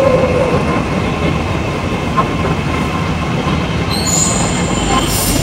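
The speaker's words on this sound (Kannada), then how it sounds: "ಸೊ ನೋಡ್ಬೋದು ಮೆಟ್ರೋ ಟ್ರೈನ್ ಬಂದಾಯಿತು" A Mumbai metro train pulls into a station, its steady rumble and rolling wheels running throughout, with high wheel squeals and brake hiss rising near the end.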